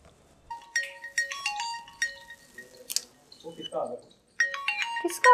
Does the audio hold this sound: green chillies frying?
no